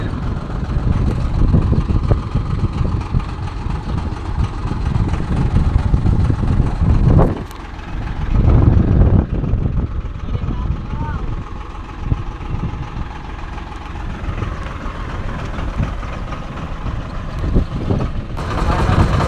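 A tractor engine idles in a field after being push-started, a close, low, steady rumble with a short dip and rise partway through, with people talking over it.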